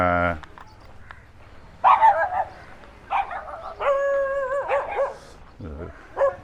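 Several dogs bark and yip in short bursts on a beach in Rawai, Thailand, some higher and whiny, with quieter gaps between, fairly close and loud.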